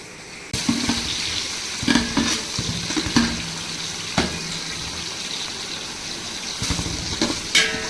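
Onions frying in a pan for seeraga samba biryani, a steady loud sizzle with repeated scraping stirs of a spoon at irregular intervals, no talking.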